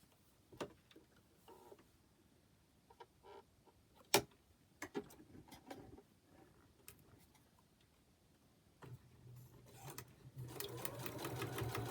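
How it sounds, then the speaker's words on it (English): Sewing machine stitching along a quilt line, scattered quiet ticks and handling knocks at first, then the motor starts near the end with a rising, steady close hum of rapid stitches. "So I'm going to sew on that 3 line."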